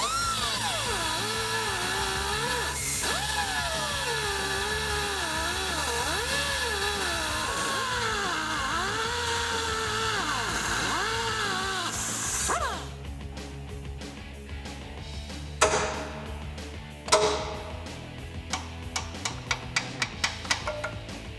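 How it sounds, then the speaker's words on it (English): A pneumatic cutoff wheel slices through a steel droop stop bracket in the wheel well of a 2014-2018 Silverado 1500 during a lift kit install, a loud steady whine with shifting tones for about twelve seconds, then stopping into clanks and taps. "We need to make room for our new control arm, so we're gonna use a cutoff wheel"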